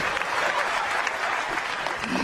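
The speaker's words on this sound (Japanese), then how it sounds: "拍手" Audience applause at a live public radio recording session, a dense steady clapping from a crowd that fills the room, loud and continuous throughout with no voices standing out.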